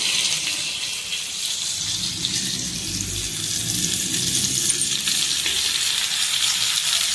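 Fish frying in a pan, a loud continuous dense sizzle and crackle that holds steady throughout with no pauses.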